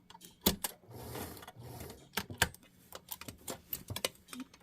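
A sewing machine stitches in short, quiet bursts with sharp mechanical clicks and gaps between runs, heard up close with no talking.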